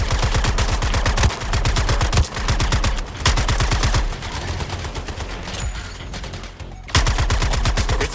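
Rapid bursts of automatic gunfire from the video game Suicide Squad: Kill the Justice League, loud and close, in several long volleys with brief gaps between them.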